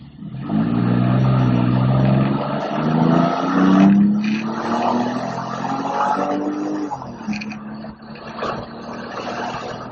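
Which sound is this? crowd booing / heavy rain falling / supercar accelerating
supercar accelerating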